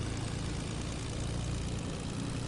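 Airplane in Fortnite Creative droning with a steady, low propeller-engine hum, faint and constant without a break.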